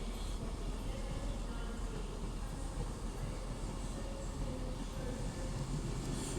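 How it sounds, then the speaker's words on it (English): An Avanti West Coast train, the delayed 11:10 service to Manchester Piccadilly, pulls into Crewe station on the West Coast Main Line. It makes a steady, loud, continuous rumble with no talking. "the next train to be coming in will be the delayed 11:10 Avanti West Coast service to Manchester Piccadilly"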